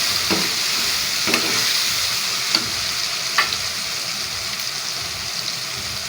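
Turmeric being stirred into pumpkin chana dal in a hot pan, a soft continuous sizzle broken by several close, periodic scraping strokes of the spoon.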